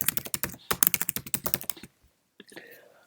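Quick, crisp keystrokes on a computer keyboard clatter in a fast, uneven burst of about twenty taps close up, then a brief pause and a couple of softer clicks.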